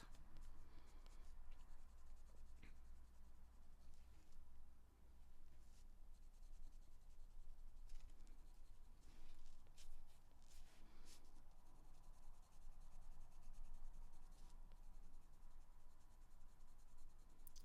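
Pencil strokes on paper, short lines laid down in a light colour while shading a drawn face, a soft continuous scratchy rubbing heard close and steady throughout with no talk.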